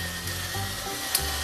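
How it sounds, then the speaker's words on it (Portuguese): Meat frying in a generous drizzle of olive oil in a pan for a winter soup gives a steady, close sizzle with one brief sharp crackle. "Enquanto a gente frita a nossa carne"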